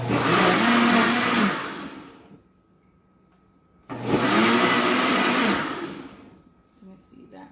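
Two bursts of an electric blender whirring through coconut cheese flan batter, each running about two seconds at a steady loud whine, separated by a quiet pause.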